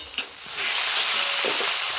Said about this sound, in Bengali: বাকি যে মাছ আছে ওগুলো এভাবে ভেজে নেবো লাল লাল করে